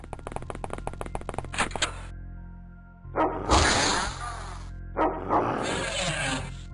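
Dog in the X-COM video game barks in a quick series of sharp yaps, then a pause, followed by two louder bursts of game sound, close and clear with no talking.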